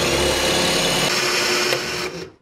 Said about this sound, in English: so I'm going to have to drill them out.